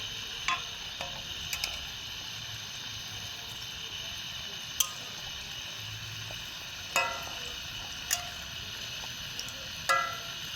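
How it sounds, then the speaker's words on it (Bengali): Chira (flattened rice) chops frying in a pan, with a steady soft sizzle running throughout and punctuated by several sharp clicks and scrapes from a utensil turning them. "এই চপগুলো হালকা একটু ভাজা হয়ে এসছে এগুলোকে উল্টে পাল্টে ভেজে নেবো"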